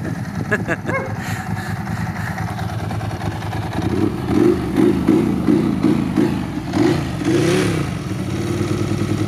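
A Ducati superbike engine running after a bump start with a faulty starter motor, rough idling rising into throaty revs, loud and close, with people talking over it.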